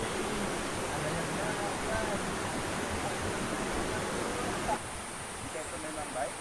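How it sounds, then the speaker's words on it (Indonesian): A river rushes through a mountain forest on the Gede slopes, a dense, continuous broadband roar of flowing water heard close and steady throughout, dipping slightly near the end. "kalau mendengar suara sungai itu rasanya bikin tenang"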